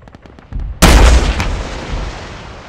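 A single heavy weapon shot in a military video game, a sharp loud blast followed by a long rumbling decay, preceded by faint clicks and low handling noises.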